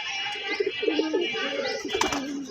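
Pigeons coo in a rooftop loft, a run of soft, throaty rolling calls close by, repeating in short bursts with a brief flutter near the end.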